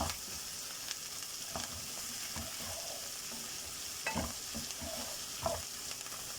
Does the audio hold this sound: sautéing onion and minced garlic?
yes